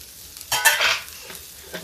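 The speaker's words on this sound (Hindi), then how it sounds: "प्याज को हम ज़्यादा फ्राई नहीं करेंगे" Onions fry lightly in a pan for a sprouted mung snack, with a brief burst of spatula stirring and sizzle in the middle of a quiet moment.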